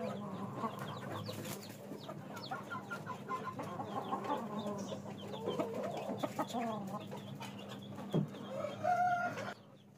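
Fayoumi chickens, about three to three and a half months old, cluck and chatter continuously inside a farm loft cage, a busy overlapping flock murmur with occasional louder calls near the end.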